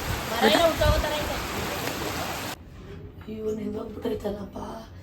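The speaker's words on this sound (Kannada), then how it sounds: "ಮಳೆ ಬಂತು ಚೆನ್ನಾಗಿ ಆಟ ಆಡಿದೆ ಮಳೆಲೆಲ್ಲ ನೆಂದ್ಬಿಟ್ಟೆ" Heavy rain hisses loudly at first, then cuts away to softer background noise as a person talks nearby.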